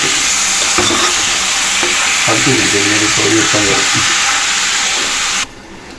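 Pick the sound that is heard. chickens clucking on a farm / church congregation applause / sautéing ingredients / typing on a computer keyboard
sautéing ingredients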